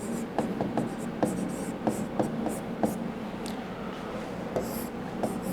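A hand writes an equation for an AC circuit analysis, with continuous close scratching of the writing tool and small repeated taps as strokes start and finish.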